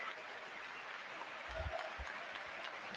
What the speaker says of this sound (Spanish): Con cariño y con aplausos para el canterano